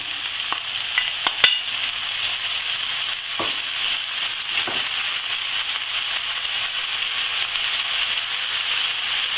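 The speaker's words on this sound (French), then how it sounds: "dans une poêle sans matière grasse, donc mettez vos allumettes de lardon à rissoler" Lardon matchsticks fry in a dry pan without fat, making a loud, constant close-up sizzle with a few sharp pops and crackles early on.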